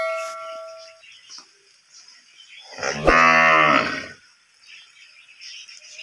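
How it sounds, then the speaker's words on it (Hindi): Sheep call to be let inside on a rainy winter day, with one loud, drawn-out bleat of about a second rising out of near quiet, a softer earlier call, and faint ticking and rain in the background. "हमारी जो भेड़ियाँ हैं ये भी बुला रही हैं कि हमें भी अंदर कर दो"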